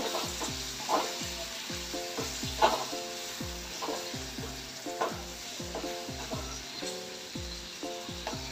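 Masala-coated catfish pieces fry in a pan with a steady close sizzle, while a utensil taps and stirs in a regular rhythm throughout.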